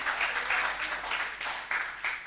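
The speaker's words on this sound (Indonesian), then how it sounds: "Tepuk tangan untuk Tuhan yang meriah" A church congregation applauds for God, producing a dense, steady wash of many hands clapping together with slight surges, filling the room without pause.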